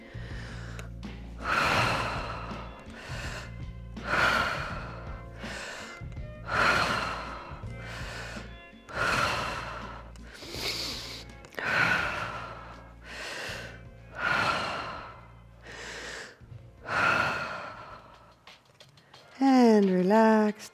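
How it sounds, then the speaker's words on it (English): Deep, rhythmic breaths drawn in and let out during a slow body-movement exercise, repeating about every second or so at close range, with a brief warbling tone at the end. "breathing in."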